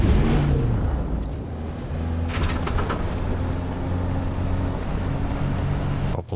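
The engine of an ornithopter in the video game Dune Awakening runs as a loud, steady mechanical drone with a low hum and rumble, continuous and close, no talk over it.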